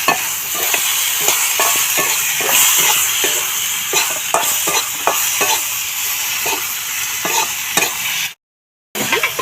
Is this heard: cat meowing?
no